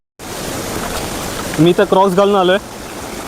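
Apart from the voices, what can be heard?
water stream flowing beside a jungle trail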